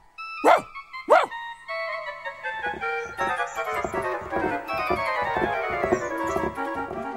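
A little dog gives two sharp, close barks, then a rapid run of yips and barks over music in a children's animated train story.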